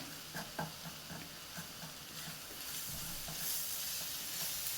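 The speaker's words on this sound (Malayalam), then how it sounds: "അപ്പോൾ ഈ പൊടിയൊക്കെ ഒന്ന് നമുക്ക് വഴറ്റിയെടുക്കാം" Spice powders and chicken sausage sauté together in a pan, a faint steady sizzle with a few soft scrapes of stirring early on, the hiss swelling slightly toward the end.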